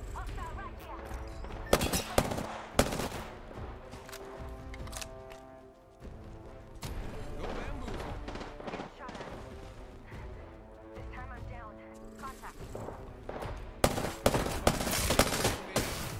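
Gunfire in the battle royale shooter Apex Legends comes in sharp bursts of loud shots at several points, with quieter stretches and background game sounds between them.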